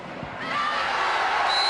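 At a Jesi versus Perugia volleyball match, the crowd erupts in loud cheering once the score is levelled, a broad roar that swells and holds steady for under two seconds.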